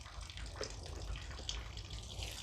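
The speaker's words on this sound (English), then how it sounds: "the weight of the soil is just pushing all that excess water out" Excess water trickling and draining out of a self-wicking raised bed as the weight of the soil pushes it through, a steady close splashing flow with no talk.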